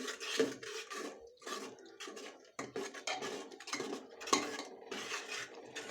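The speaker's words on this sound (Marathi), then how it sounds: "प्युरी घातली की ती छान परतून घ्यायचं आहे अगदी पिवरीतून तेल वेगळं होईपर्यंत परतून घ्यायचं आहे व्यवस्थित" Horse gram puree being sautéed in oil in a pan, with repeated scraping and clinking of a spoon against the pan in an irregular rhythm, close and fairly quiet, no voices.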